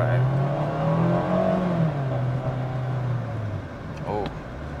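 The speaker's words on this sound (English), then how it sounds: "It'll scream a lot, of course. It's a naturally aspirated engine" A 2023 Mazda MX-5 Miata RF GT with a naturally aspirated engine accelerating from a stoplight, a rising engine drone heard from the cabin that climbs steadily in pitch, then eases off as the revs drop.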